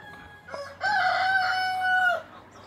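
A rooster crows once, loud and close, in a two-deck poultry house built to hold up to 500 birds, with a faint low hum underneath and no talking.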